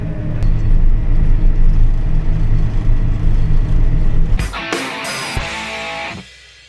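An old farm tractor's engine rumbles loudly and steadily up close for several seconds, then cuts out into a few sharp clunks and rattles before quiet.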